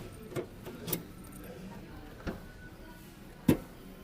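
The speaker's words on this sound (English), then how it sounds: "You can open the boot gate from here, very nice, and you can also open it from here when the vehicle is locked." The boot gate of a Maruti Wagon R hatchback is opened, with a few sharp, separate latch clicks and a light jangle of keys against a quiet background.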